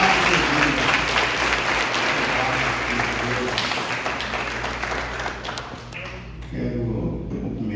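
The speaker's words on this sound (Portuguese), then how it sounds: "Então, uma salva de palmas para Jesus." Loud, dense applause from a crowd at an outdoor church gathering in a park, sustained for several seconds and thinning near the end, with voices faintly audible underneath.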